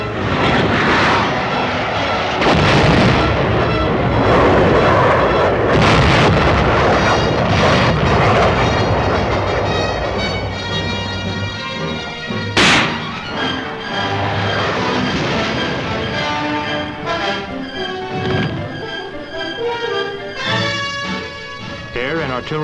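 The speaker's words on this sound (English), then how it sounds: "Air and artillery preparation are completed." Military air strike and artillery barrage during a training assault on an enemy blockhouse, with aircraft engines droning loudly throughout, sharp blasts and impacts punching through, and a narrator's voice running over the din.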